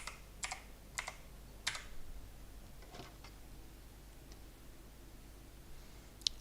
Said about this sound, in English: So I want to go here and type in a form.